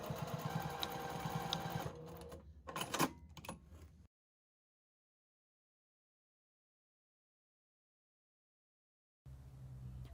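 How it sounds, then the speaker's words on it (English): A sewing machine whirs briefly stitching a seam in fabric panels, with quick mechanical clattering, before everything drops to silence; a faint noise returns at the very end. "that green grid at the base of my sewing machine"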